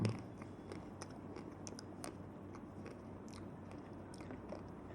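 Someone biting into and chewing a Magnum mini ice cream bar close up, with a crack of the chocolate shell at the start and then soft, wet chewing over a quiet background.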